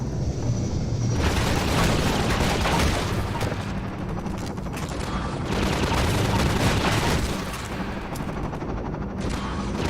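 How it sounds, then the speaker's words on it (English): A rocket launcher fires in a video game. Heavy booming blasts and rattling gunfire run loud and almost continuously, easing slightly near the end. "This is the crazy rocket launcher thing."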